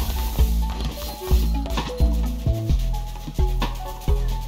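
Cooking a basic berry bowl in the video game Cult of the Lamb, with short bubbly stirring effects over a steady, bouncy musical score, repeating in quick bursts at moderate loudness.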